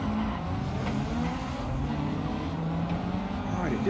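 A rally car engine in the racing game Dirt 4 drones steadily throughout, with faint shifting pitch and a brief squeal-like sweep near the end.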